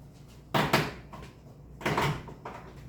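Two sharp plastic cracks and creaks as a door panel on a 1987 Dodge D100 truck is pried free with a taped tool, each burst brief and close with quiet pauses between.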